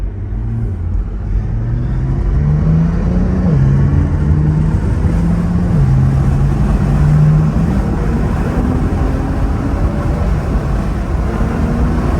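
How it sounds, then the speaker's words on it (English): Brabus 820 Porsche 911 Turbo S with valve-controlled Inconel sport exhaust and PDK gearbox, roaring loudly close by on a track, its exhaust rising in pitch as it revs and accelerates through gear changes, steady and continuous. "So fire it up, valve controlled, inconel sport exhaust, valves up, and then we go for a ride."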